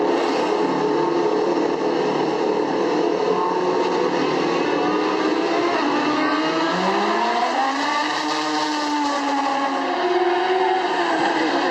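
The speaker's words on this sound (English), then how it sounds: "That might have been the exhaust note, my favorite one" A Honda car engine revs hard and steadily, its exhaust note rising and falling through shifts, loud and continuous without talk.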